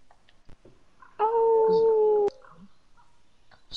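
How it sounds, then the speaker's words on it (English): A wolf howls once in the DayZ video game, a loud sustained tonal call lasting about a second, with faint background game ambience and occasional small clicks around it. "I heard a howl."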